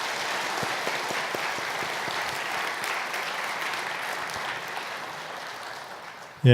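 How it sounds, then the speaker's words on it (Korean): A church congregation at a Sunday worship service claps in steady, sustained applause of encouragement, a dense even patter from many hands that runs evenly throughout and stops abruptly at the end. "우리 이분들을 위해서 크게 격려의 박수 한번 하겠습니다."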